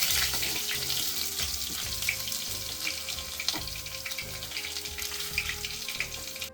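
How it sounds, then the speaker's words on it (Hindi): Tadka spices crackle and sizzle in hot oil on a home stove, a steady close frying hiss with sputtering pops over low rhythmic thumps, with no one speaking. "यहाँ पे तड़का लगना भी शुरू हो गया है"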